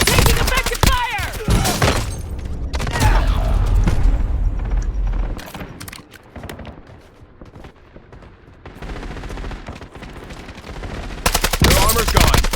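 Rapid automatic gunfire in a Call of Duty Warzone match on Heaven's Hollow, loud and close, with dense bursts and booms at the start, thinning to scattered shots mid-way, then surging into heavy fire again at the end.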